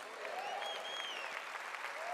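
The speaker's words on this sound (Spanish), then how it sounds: "yo creo que tú le puedes dar un mejor aplauso al Rey de Reyes y Señor de Señores" A church congregation claps in a dense, sustained burst of applause, with a few whoops and shouts riding over it, loud and continuous throughout.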